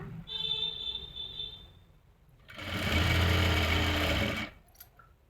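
A sewing machine stitching a dhoti salwar runs in one steady burst of about two seconds, loud and close, after a quieter stretch of softer sounds.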